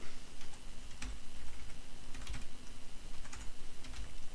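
Data being typed on a computer keyboard, a steady run of close, soft key clicks at an even pace with occasional heavier taps.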